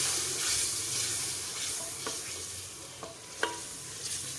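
Masala spices for dal fry and sizzle in a pan with a steady hiss, while occasional scraping stirs and clinks of a spoon cut through.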